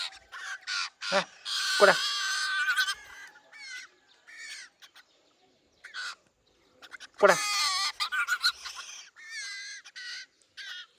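A magpie gives harsh, chattering caws in short repeated bursts while being hand-fed, close by, with a person calling to it in between.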